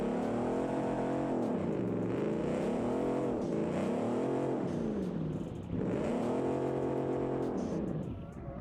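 A twin-turbo V8 in a Ford F350 in BeamNG Drive revs hard and continuously, the engine note climbing and falling in repeated sweeps with a brief dip between pulls, loud and close.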